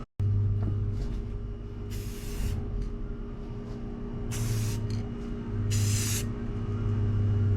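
Three sharp hissing bursts from a spray can, each lasting about half a second, stand out over a steady low mechanical hum while painting a car spoiler.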